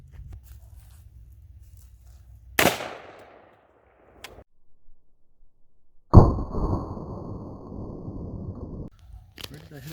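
A firearm is shot at a target at close range, with one sharp crack, a second louder blast a few seconds later that leaves a sustained ringing rumble, and faint handling noises in between.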